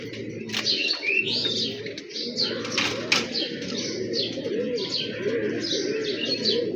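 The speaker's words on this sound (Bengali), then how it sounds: "কবুতরগুলা ভালো ফ্লাই করছে অনেক হাইট নিচ্ছে কবুতর" Pigeons coo in a steady, overlapping low murmur while they are out flying, with occasional sharper chirps and clicks above, close and continuous throughout.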